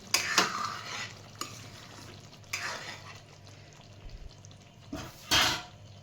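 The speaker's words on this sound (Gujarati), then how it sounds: "જો આપણું શાક મસ્ત ચડી ગયું છે અને તેલ પણ છૂટું પડવા માંડ્યું છે તો આપણે એકવાર એને હલાવી નાખીશું" A whole-onion curry frying in oil is stirred in a pan, with a quiet background sizzle broken by several loud spoon scrapes and clatters at irregular intervals; no one speaks.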